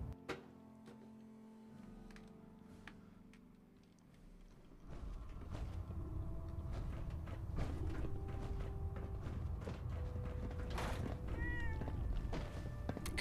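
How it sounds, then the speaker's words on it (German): A cat meowing in the video game Fallout 4, a short meow rising from a busy game soundscape of thunks, creaks and mechanical clatter over a low rumble that swells midway. "Katze?"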